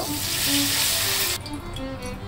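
Whole garam masala spices drop into hot mustard oil for a country chicken curry, giving a loud, steady sizzling hiss that cuts off sharply partway through, leaving quieter background noise.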